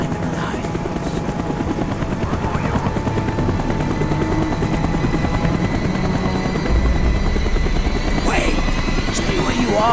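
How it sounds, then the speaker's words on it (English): A helicopter in the Call of Duty: Black Ops video game drones steadily with a loud rotor thrum throughout, overlaid by battlefield noise and speech. "The chopper is coming around again."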